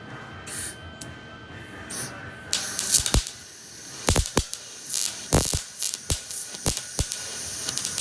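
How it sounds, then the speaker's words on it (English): Welding a radiator core support into a car, short hissing, crackling bursts of the welder separated by brief pauses, loud and close with no talking. "let's lay some welds"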